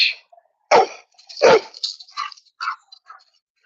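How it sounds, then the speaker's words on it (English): Two backyard dogs, one a pit mix, wrestle at someone's feet, letting out a few sharp barks and yips followed by smaller whimpering and grumbling vocalizations, close and loud, with no talk over them. "Doggies, relax. They have the whole backyard, and they always want to wrestle at my feet."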